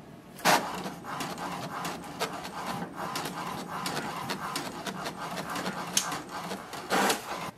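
An HP DeskJet 4133e printer makes a copy, its mechanism giving steady close whirring and rubbing with repeated short clicks and a few louder clunks, heard alone.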